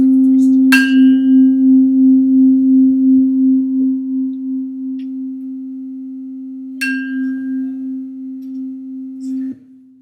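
Two steady sine tones at 263 and 260 Hz sounding together, producing a slow wobbling beat about three times per second, with brief clicks where a tone stops and restarts partway through.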